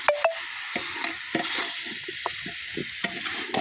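Village-style country chicken masala with curry leaves and coriander sautéing in a pan, giving a steady close sizzle broken by scraping stirs of a spoon against the pan.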